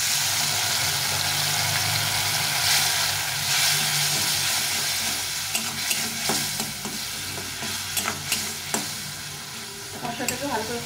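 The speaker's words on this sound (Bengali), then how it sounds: "মশলাটাকে ভালো করে কষিয়ে নিতে হবে।" Spice paste and bitter gourd with turmeric and salt stir-fry in a pan, a steady loud sizzle with scraping stirs toward the end, no talk.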